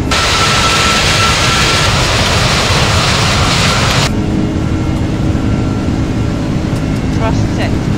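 Airbus A330 jet engines at takeoff thrust in the Prepar3D flight simulator, departing Milan Malpensa: a loud, steady broadband roar that fills the whole stretch and turns noticeably duller and lower partway through.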